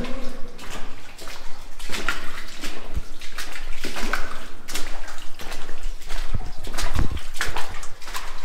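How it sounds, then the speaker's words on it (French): Continuous splashing and rushing water as someone wades through a shallow stream, footfalls sloshing steadily in an echoing enclosed space. "Je viens de me taper un tunnel où je marchais littéralement dans un ruisseau"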